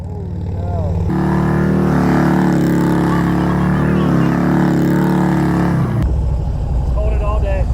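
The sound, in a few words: large motorcycle engine revving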